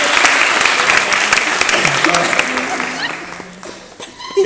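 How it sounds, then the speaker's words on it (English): An audience at a hypnotist show breaks into loud, dense applause that fills the room, then fades gradually toward the end as a voice starts to speak. "Give her a round of applause."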